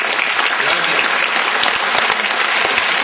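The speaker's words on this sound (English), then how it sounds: "Give a big clap for me." Dense, steady applause from an audience at a spiritual talk or guided meditation session, many hands clapping continuously and loudly throughout without pause, close and filling the room.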